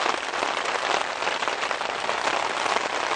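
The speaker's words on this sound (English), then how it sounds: "It's raining!" Steady rain hisses on a surface, a dense even wash of patter with no voices, holding constant throughout.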